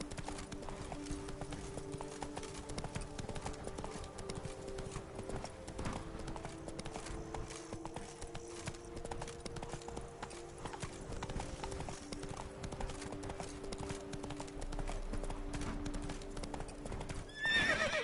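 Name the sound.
horse Roach's hooves clip-clopping, The Witcher 3 video game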